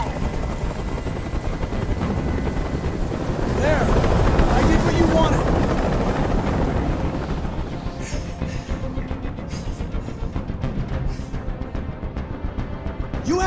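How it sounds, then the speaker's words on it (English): A helicopter hovers close overhead in the video game Detroit, its loud, steady rotor roar swelling and fading over a rooftop hostage standoff, with voices speaking under the noise. "I can't stand that noise anymore. Tell that helicopter to get out of here."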